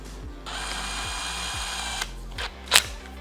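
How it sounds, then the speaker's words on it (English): A power drill working on rivets on a Humvee, with a steady close whine for about one and a half seconds, then short bursts and a sharp metallic spike near the end; no one speaks. "I'll have to drill out all these rivets."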